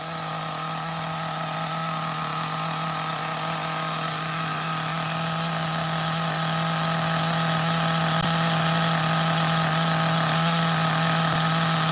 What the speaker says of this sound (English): I gotta lower the idle a little bit, it's too high.